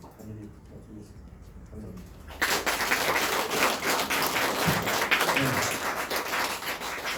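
Audience applause at a Korean conservative party political event in Jeju, starting abruptly after a quieter stretch with a speaker's voice, then sustained, fairly loud clapping from a crowd.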